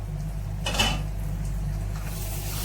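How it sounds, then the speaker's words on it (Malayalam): A lid lifts off a pan of masala for sardine roast with one brief metallic clink, set against a steady low kitchen hum. "മസാല ഒന്ന് തുറന്നു നോക്കി ചെക്ക് ചെയ്യാം"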